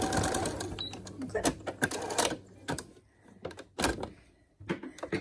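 A sewing machine stitches along the headband of a fabric face mask, ending in a backstitch, running in short bursts and pauses with nearby clicks and handling sounds.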